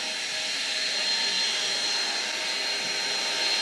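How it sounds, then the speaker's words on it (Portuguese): A loud, steady electric mixer whine beating whole eggs with sugar for a cornmeal and passion fruit cake: a continuous high motor drone with no breaks, close to the microphone. "vou bater com açúcar até espumar. Vamos lá, batedeira de ferro."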